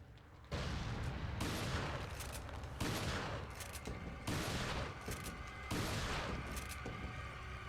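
Shotgun fire in Resident Evil 4: five loud, close blasts spaced roughly a second or so apart, each a sharp broadband crack with a short rumbling tail.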